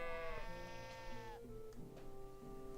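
A sheep bleats loudly in Kingdom Come: Deliverance II, a single quavering bleat lasting over a second, followed by faint shuffling and ambient game sound.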